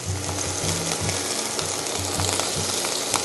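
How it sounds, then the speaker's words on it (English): Chopped onion sizzling in hot olive oil in a pan, a steady close crackle and hiss with faint rhythmic scraping or stirring thumps underneath, no voices. "Starting with the onion, you can sweat it a little bit."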